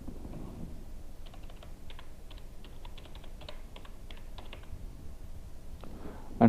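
Quick, light keystrokes on a computer keyboard enter a web address, a close run of clicky taps over a soft background hum, with no voices.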